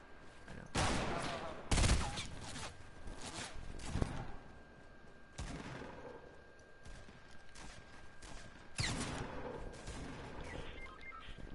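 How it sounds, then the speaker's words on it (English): Sniper and other gunfire in a Fortnite match, several sharp loud cracks spread out at irregular intervals with quieter game noise between them. "I'm already getting sniped at"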